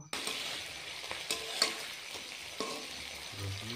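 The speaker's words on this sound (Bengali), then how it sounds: "তো আমি এক এক করে চিংড়ি মাছগুলো ভেজে নিচ্ছি" Prawns frying one by one in hot oil for a homestyle mocha chingri malaikari, a steady crackling sizzle broken by a few sharp pops and light stirring scrapes, close and alone.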